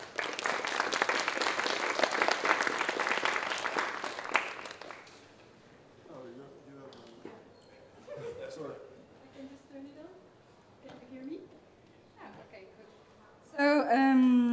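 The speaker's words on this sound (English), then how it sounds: "Give them a round of applause for the MABIKAs." Loud audience applause for about five seconds, then fades into murmured talk and scattered voices, with a brief burst of sound near the end.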